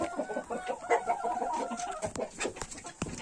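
Buff Orpington chickens in a coop, clucking steadily and close by, with a few sharp louder clucks and scuffling sounds toward the end.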